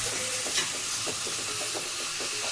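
Mushrooms with salt being stirred in a pan, a continuous close sizzle and frying hiss with repeated soft scraping strokes of the spoon, no voices.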